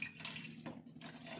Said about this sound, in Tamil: ரொம்ப கெட்டியாகுது, கொஞ்சம் தேவையான அளவு தண்ணி ஊற்றிக்கோங்க.